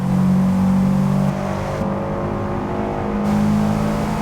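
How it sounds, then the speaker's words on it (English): Race car engine in Forza Motorsport holding a loud, steady high rev with a strong droning tone, briefly dipping and shifting pitch midway before surging again, alone with no talking. "the car sounds so different in each angle"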